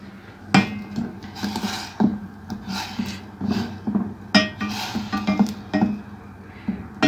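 A metal spoon clinks and scrapes against a pan while samosa filling is mixed, producing irregular bright taps and knocks repeated over several seconds at close range.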